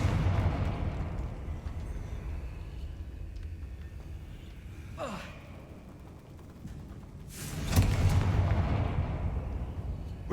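Two bursts of Confringo blasting-spell explosions in Hogwarts Legacy, a faint whooshing blast midway and a louder boom near the end, over a steady low rumbling game ambience.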